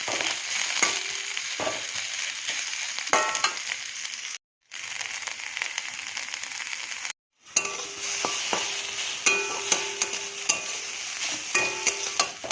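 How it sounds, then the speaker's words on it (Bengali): Chopped onions sizzle and fry in a pan for a potato curry while being stirred, with steady close frying hiss, scraping stir strokes and light clinks, broken by two brief silent gaps. "পেঁয়াজটা লাল করে ভাজা হয়ে গেছে"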